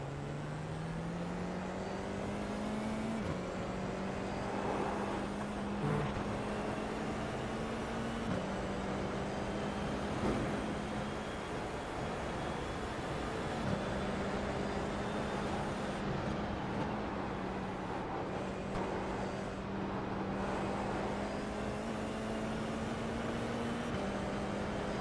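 Mazda MX-5 engine in the iRacing sim, a steady close engine drone that holds pitch, drops at each gearshift near 3, 8 and 20 seconds and climbs again, running without a break the whole time with no talk over it.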